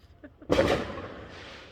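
A single firework bursts outside with a sharp crackling bang that decays into a fading rumble, heard from indoors after a brief spoken sound.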